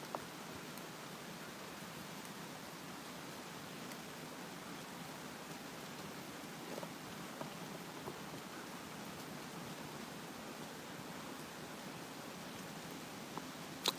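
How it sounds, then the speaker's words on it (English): Rain falls outside as a steady, faint, even hiss. It holds at a constant level throughout, with occasional tiny ticks of drops. "We have rain going on, guys."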